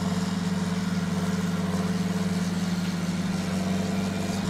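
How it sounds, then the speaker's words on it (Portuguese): A tractor engine idles and runs steadily in the Farming Simulator 19 game, with a constant low droning hum and a mid-range mechanical rumble. It holds at an even loudness throughout with no talk. "E o som desse motor é bem estranho mesmo."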